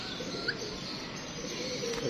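Pigeons in a home loft coo softly and steadily, a low murmuring call running throughout amid faint background chirps, with no talking.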